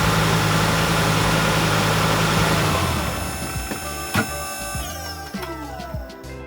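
A Ford Focus ST225 Mk2 engine running steadily at idle after new auxiliary belts and tensioners, a constant close hum that settles lower partway through, with a faint mechanical whine and a brief clunk.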